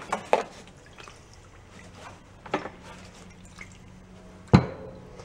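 Old gasoline and water dripping from the fuel tank of a salvaged John Deere, a few scattered drips and splashes, sharper ones near the start, middle and end, over quiet background noise.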